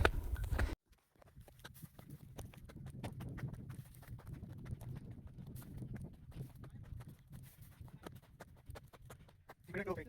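Donkeys walk along a riverside hill road, hooves clip-clopping in an irregular patter at moderate distance, with a muffled rumble and occasional voices underneath.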